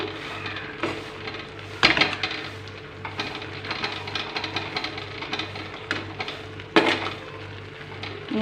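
Onion and ginger stirred in a cooking pot in a home kitchen, a spoon scraping and clinking against the metal in scattered knocks, two louder clanks standing out over a low steady hum.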